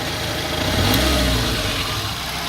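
An Alfa Romeo 147 engine running roughly on LPG, a steady mid-pitched idle with an uneven, shaky tone and a slight swell in the middle, heard up close and alone.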